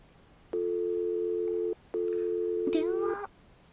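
Telephone busy signal in a horror video game, two long steady electronic tones separated by a brief gap, the second broken at the end by a higher warbling sound.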